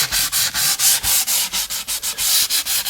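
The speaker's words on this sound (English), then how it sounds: "Sand our route real good so that our route is nice and even all the way around." Wood is hand sanded along a routed edge with a steady run of close, rhythmic rasping strokes, each stroke a short bright scrub repeating about every quarter second.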